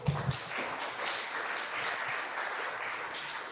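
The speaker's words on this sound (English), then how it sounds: "Round of applause" Applause from an audience at a tech awards launch event in Christchurch, a steady wash of clapping held at even strength throughout, with a couple of louder claps near the start.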